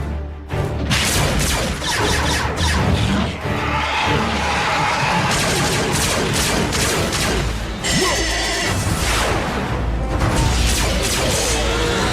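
Rapid bursts of blaster-style gunfire ring out amid crashes, booms and clanking mechanical noise during an animated Transformers Prime robot battle, dense and loud throughout with short lulls.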